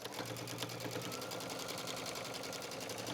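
A sewing machine stitches trim onto a towel hoodie, a fast, even mechanical chatter that runs steadily and close throughout with no voices.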